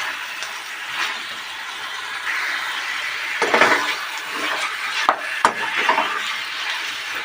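Chicken and pre-fried potatoes are stirred in a pan while cooking, giving soft scraping and gentle sizzling with a few sharp clinks of the utensil against the pan.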